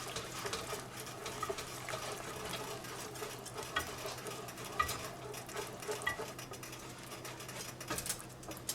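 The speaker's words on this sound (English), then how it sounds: "And you just want to whisk this until it's combined." A whisk stirs a creamy cheese sauce for mac and cheese in a pot, a steady close scraping and sloshing with faint bubbling underneath, continuous with no talking.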